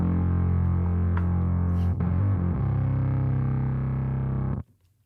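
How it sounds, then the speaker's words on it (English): Bass guitar played through a buzz distortion pedal: a bright, biting distorted note holding steady for several seconds, with a brief shift in pitch partway through, then cutting off abruptly to near silence. "I went with the buzz option, which sounds like this."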